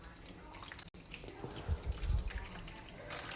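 Liquid jello being poured into a baking pan lined with aluminum foil, giving a soft, quiet trickling and splashing that swells in the middle of the pour, close by and with no talk.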